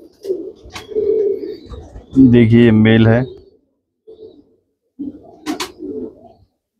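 Teddy pigeons coo in a pair, with a rolling, throaty burst in the middle, while someone talks close by before and after it.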